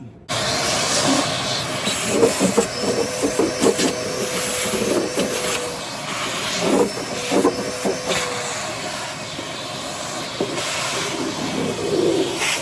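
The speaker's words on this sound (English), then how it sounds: "We're gonna go ahead and vacuum all this up." A steady, broadband whoosh and hiss of a vacuum cleaner runs throughout, with uneven bursts and clatter as it sucks up debris.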